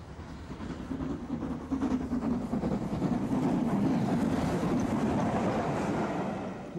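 A Lord Nelson class British steam locomotive runs past, giving a steady low rumbling rhythm of wheels and exhaust that swells and holds loud, with no voices.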